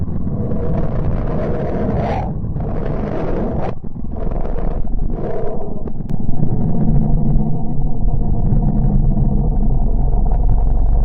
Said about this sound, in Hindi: यह बुध ग्रह की आवाज है।